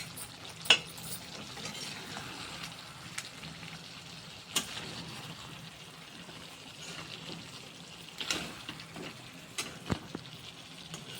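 Chicken pieces coated with red chilli powder being stirred in a pan, giving soft sizzling with scattered scrapes and clicks of the spoon, quiet and close, no talking.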